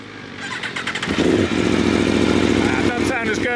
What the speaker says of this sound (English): Let's hear the V4.